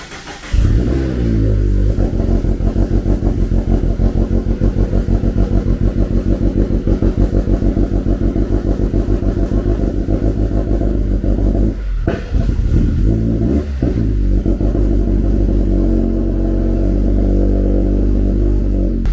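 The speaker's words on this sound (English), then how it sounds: "That is what a cold start on E85 sounds like, if anyone has never heard one of those in this car." Cold start of a 2019 Mazda MX-5 ND2 running on E85 fuel: the engine catches and settles into a loud, fast, slightly lumpy high idle with a rapid exhaust pulse, close up and alone, with a brief dip midway.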